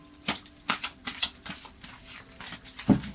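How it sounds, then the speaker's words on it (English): Soft tarot card shuffling close by, a string of quick papery riffles and taps at an uneven rhythm. "So I'll just give them a final shuffle."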